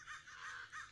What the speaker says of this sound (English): Excuse the birds and the zombies.